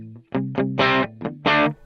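Electric guitar plays a short run of picked notes and chords through a Vox AC30 2x12 amp model without compressor, moving from bridge to neck pickup, fairly clean with a slight edge, no voices.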